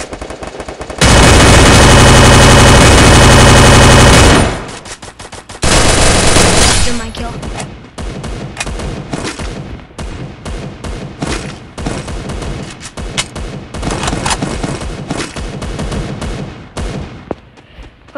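Automatic gunfire in the mobile shooter Free Fire: loud, sustained full-auto bursts dominate the opening seconds, then a second burst, followed by scattered quieter shots and game effects while a player talks.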